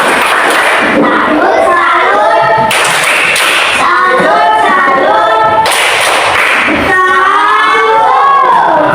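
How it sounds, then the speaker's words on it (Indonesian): Schoolchildren in a classroom perform a rhythmic clapping cheer for their classmates, with three bursts of sharp group claps spaced a few seconds apart and chanting voices between them. "Tepuk tangan untuk teman-teman kalian."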